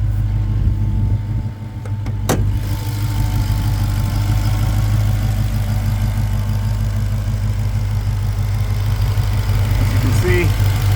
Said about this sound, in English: Let's go ahead and pop the hood and look at that Hellcat motor.